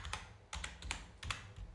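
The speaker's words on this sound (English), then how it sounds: "hit F2 on the keyboard" Keys pressed on a computer keyboard while working in DaVinci Resolve: a handful of distinct clicky taps in small clusters, close and fairly quiet, with no talking.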